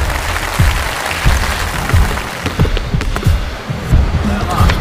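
At an indoor basketball game, spectators clap in a steady ripple of applause while a ball thuds and bounces on the court and voices carry faintly underneath.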